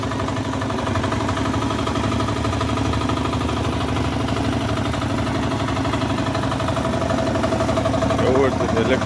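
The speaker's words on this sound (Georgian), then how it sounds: "ჩვენი მინი ტრაქტორი უბრავლელი." A mini tractor engine idles steadily at close range, a continuous mid-pitched mechanical drone holding even throughout with no pauses or revving.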